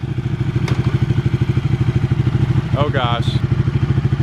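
A Ducati 1199 Panigale engine chugs and pulses steadily and loudly up close while being ridden, its rhythmic low throb continuous throughout; a rider briefly exclaims over it.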